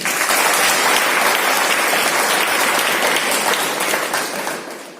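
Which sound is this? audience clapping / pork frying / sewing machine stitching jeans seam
audience clapping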